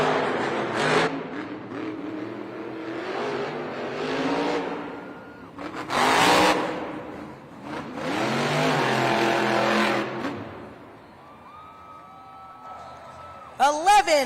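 Monster truck engines rev loudly at the starting line of an indoor Monster Jam arena event in Denver, with repeated roaring bursts and rising whines, while an announcer talks over them.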